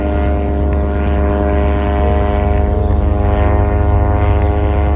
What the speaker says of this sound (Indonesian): Ini ya teman-teman, ini drone tanpa awak ya. Jadi drone ini membawa bahan peledak atau bom ya.